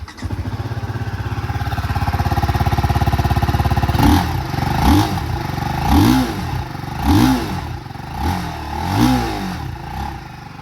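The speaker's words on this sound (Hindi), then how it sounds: "अब सुनाता हूँ मैं इस बाइक का आपको एग्जॉस्ट साउंड।" A 2023 TVS Apache RTR 310 motorcycle idles with a steady close exhaust burble, then gets revved in about six sharp blips that rise and fall at a regular pace, with no talk over it.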